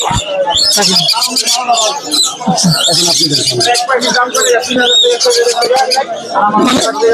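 Caged birds at the Mirpur 1 bird market in Dhaka, including parrots, call and chirp densely and loudly throughout, mixed with people talking nearby.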